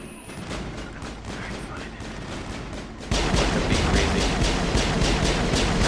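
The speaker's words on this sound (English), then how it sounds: "What are you guys shooting at?" Gunfire in the video game Mass Effect, rapid repeated shots that swell sharply louder halfway through into dense, sustained bursts, with a voice faintly underneath.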